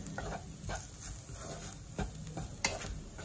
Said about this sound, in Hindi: अब इसको कंटिन्यूस चलाते रहेंगे जब तक ये रोस्ट ना हो जाए